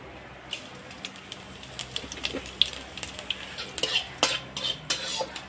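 A metal spatula clinks and scrapes against a wok over a soft, steady sizzle of oil with five-spice seeds, bay leaves and dried chillies, with sharp taps coming in irregular bursts.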